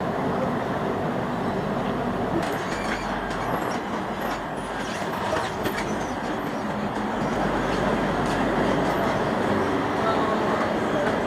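A KTM commuter train in Kuala Lumpur rumbles along inside the carriage, with steady wheel noise, rattling and clicks, and faint voices nearby.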